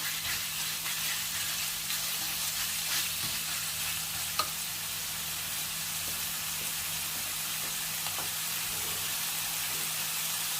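Pork belly stir-frying in a hot pan for a spicy stir-fry with beans, a steady loud sizzle with occasional small scraping stir clicks, continuous and close with no voices.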